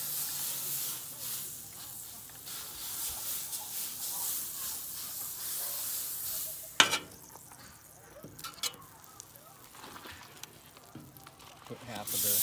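Butter sizzling in a pan while cooking sausage and stir-fry vegetables in an RV kitchen, a steady soft hiss throughout with a sharp clatter midway and light handling noises after.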